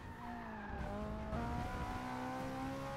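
A deep sports car engine roars steadily at high revs in Forza Motorsport 6, deeper than a Ferrari 458, pitch shifting between gears, with tire squeal layered in, loud and continuous.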